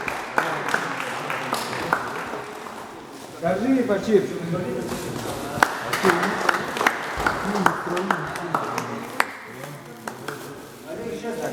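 A youth wrestling team claps in rhythm, sharp hand claps scattered and then building into a fuller burst, under a coach's loud shouted encouragement and other voices calling out.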